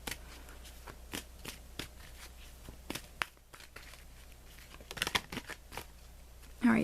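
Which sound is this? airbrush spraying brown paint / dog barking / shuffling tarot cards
shuffling tarot cards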